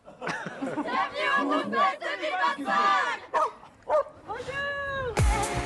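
Dogs bark and yip over crowd chatter at an outdoor festival for dogs. There are several sharp bursts of barking and a drawn-out, whining yelp, with a louder crackling burst at the end.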